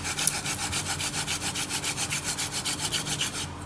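A wooden hand drill spins against a baseboard to make fire in The Gambia. It gives a close, steady, rapid rubbing of wood on wood at about six strokes a second, with nothing else heard.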